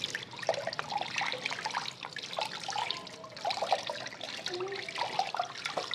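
Tap water runs steadily over a forearm being washed during wudu in a washroom, a close, continuous splashing trickle with small drips, and no voices.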